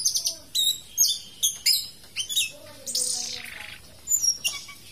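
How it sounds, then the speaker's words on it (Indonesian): An orange-headed thrush sings a lively series of sharp, whistled phrases and rising tweets, loud and close, with short pauses between bursts and no talking. "Selain murai batu, ada anis kembang, burung eksotis Indonesia"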